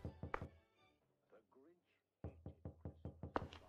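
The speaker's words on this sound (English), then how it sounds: "someone's knocking at the door" Knocking on a door in a video game, two quick bursts of sharp, evenly spaced raps, close and clear, separated by a short pause with a brief voice in between.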